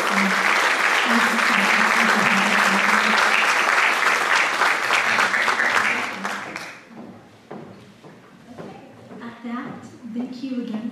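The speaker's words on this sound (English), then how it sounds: "please give them one more round of applause for these teachers" An audience at a school music concert gives a hearty round of applause for the teachers, dense clapping for about six seconds that then fades into scattered claps and a voice speaking.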